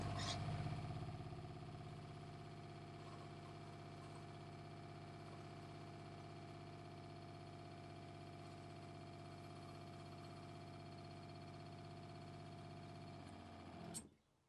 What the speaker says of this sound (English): Okay, so I let the pump cycle.